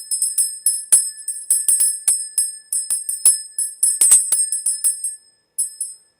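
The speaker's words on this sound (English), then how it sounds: "We also have a bell." A small hand bell is rung rapidly and continuously for sound cleansing, producing bright, high metallic rings that repeat in quick uneven strikes, close and loud, with a short pause near the end.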